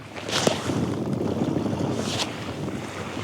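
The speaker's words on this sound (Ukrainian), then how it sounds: "Шалений вітер, але нічого страшного." Strong wind buffets the microphone in a constant rough roar while spinning for perch, with gusts swelling briefly.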